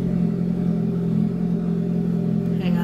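A neighbor's very loud car engine drones steadily and close by, with a heavy low rumble that stays constant for the whole stretch and no clear rise or fall in pitch.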